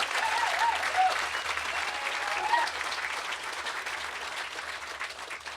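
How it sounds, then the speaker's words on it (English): Crowd applause at a Green Party speech at the Green Gathering festival, a broad clapping sound that starts full and slowly tapers, with a few faint voices and whistles mixed in. "I think you've preempted the applause"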